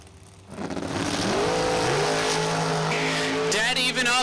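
Drag racing cars launch from the line at Numidia Dragway during an elimination round, the engine roar swelling fast into a loud, sustained scream with rising pitch as they pull away, while an announcer's voice carries over the noise.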